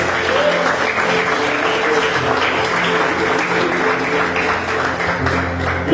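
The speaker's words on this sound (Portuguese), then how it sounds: "Vamos aplaudir Jesus bem forte." A church congregation claps loudly and steadily in praise, a dense sustained wash of applause with some low background tones.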